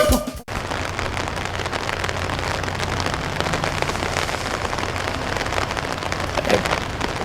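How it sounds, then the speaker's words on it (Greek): Steady rain falls outdoors, drops pattering densely on nearby surfaces in a continuous close hiss, with a brief knock at the start and no voices. "αν μας βλέπετε, βροχή είναι αυτό."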